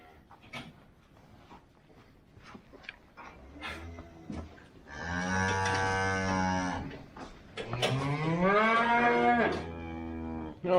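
Cattle in a field moo loudly and close by. Two long, deep, drawn-out calls stand out above rustling and brief faint sounds in between.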